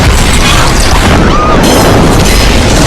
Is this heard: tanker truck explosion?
yes